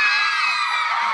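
A dense crowd of fans screams and cheers continuously at the arrival of a K-pop singer at a fan meet in Singapore, a loud sustained wall of shrill high-pitched voices.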